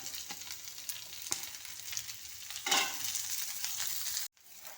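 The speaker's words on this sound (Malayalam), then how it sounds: "പച്ചമുളക് ഇതെല്ലാം നല്ലപോലെ ഒന്ന് ഇളക്കി നല്ലപോലെ മൂത്ത് വരുമ്പോഴത്തേക്ക് സവാള ഇട്ട് കൊടുക്കാം" Green chillies and onion fry in hot oil with steady sizzling and occasional stirring scrapes, a brief louder burst near the end before it cuts off abruptly, no voices.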